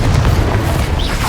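A Confringo fire blast spell erupts in Hogwarts Legacy, a loud, dense explosive boom filling the whole moment with a rumbling low end and crackling hiss.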